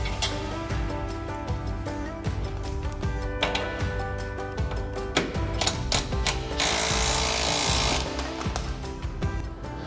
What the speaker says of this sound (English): Now that the bolts have been loosened off